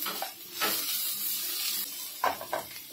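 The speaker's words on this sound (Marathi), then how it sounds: "आता आपण इथे सिमला मिरची ना ही पण टाकून घेऊया। तिला 1 मिनिट फक्त आपण परतून घेऊया।" Capsicum being sautéed in a pan with softened cabbage for soya chilli, a soft sizzle broken by a few quick stirring scrapes, fairly quiet.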